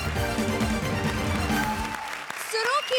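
A studio audience at a Hindi comedy show gives a burst of applause, clapping and cheering under loud music that drops away toward the end as the noise thins out.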